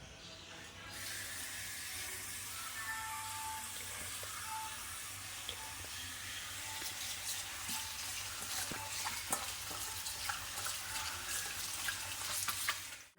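Chopped elephant foot yam leaves being washed in water, a steady sloshing and rinsing hiss with scattered splashes and clinks running continuously at moderate level.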